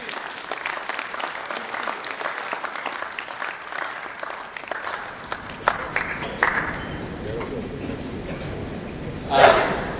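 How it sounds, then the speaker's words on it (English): A conference audience claps for itself at a closing session, with brisk, scattered applause that gradually thins and fades out, leaving a few late claps and a small bump of noise near the end. "big applause for ourselves"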